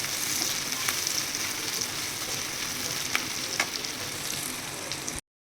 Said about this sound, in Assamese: লগে লগে মই পিঁয়াজখিনি ফ্ৰাই কৰি আছোঁ